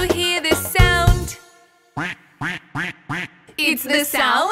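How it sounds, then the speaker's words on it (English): A cartoonish duck quacks in a short series of bright, evenly spaced nasal calls, framed by sung children's nursery-rhyme vocals before and after. "It's the sound of a duck."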